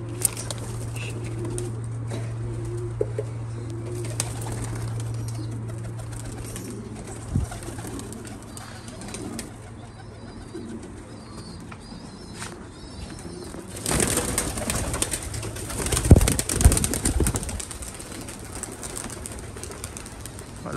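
Pigeons flying about and landing at a loft, with soft cooing and wing flaps scattered over steady low background hum, plus a louder burst of flapping and movement near the end.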